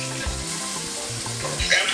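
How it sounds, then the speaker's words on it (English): Plantain porridge bubbles and steams in a pot while being stirred, with a continuous close hiss and sizzle. Faint background music plays under it. "Stir it. Everything to stir it."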